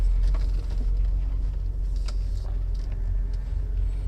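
A Rover 800 saloon pulls away in drive with an automatic gearbox, its engine a steady low rumble close up, interior road noise underneath, no talking.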